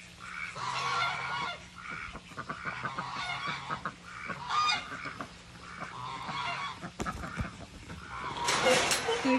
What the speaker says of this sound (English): There's other geese.